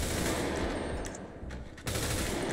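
AK-47 assault rifle fire from a FiveM game soundpack rattles in dense, sustained automatic bursts, loud and continuous with a brief dip before the firing picks back up.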